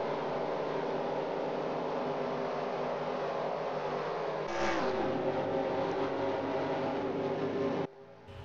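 Race cars accelerate back up through the gears on a restart, producing a steady, dense engine roar. One car swells past near the middle before the sound cuts off abruptly.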